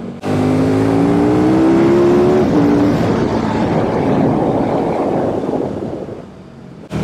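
A motorcycle engine revs hard and loud up close on a mountain road ride, pitch climbing steadily through the gear before dropping into a roaring, wind-buffeted drone that fades toward the end.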